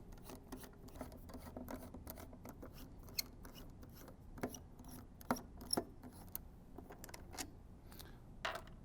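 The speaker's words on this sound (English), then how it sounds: "we'll start with the 4 screws on the fan cover" A screwdriver turns out the four screws on the fan cover of a Radion aquarium light, making faint ratcheting clicks and small rasping scrapes with scattered sharper ticks, close and quiet.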